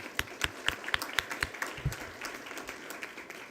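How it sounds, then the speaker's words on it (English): An audience at a school district board of trustees meeting applauds, with a quick burst of sharp claps at the start that settles into a steadier, softer round of clapping. "Let's give Everett a round of applause"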